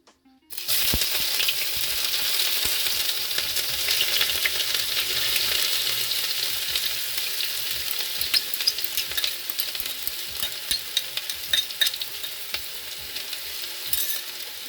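Sliced onions dropped into hot oil in a kadhai for kadhai chicken burst into a loud, dense, continuous sizzle and crackle that holds steady throughout, close and with no voices.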